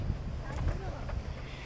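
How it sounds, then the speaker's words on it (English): Steady wind rushes and buffets the microphone on the shore at Balos Beach in Crete, a continuous low roar with faint gusts and no clear voices. "It's a little bit windy."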